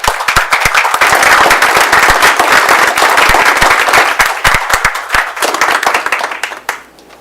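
Dense round of applause from a county board of commissioners meeting audience honoring a retiring commissioner, many hands clapping steadily and loudly for about seven seconds before tapering off.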